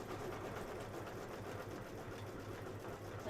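An embroidery sewing machine runs a quiet, steady stitching hum with a rapid mechanical rhythm, close and even, with no speech.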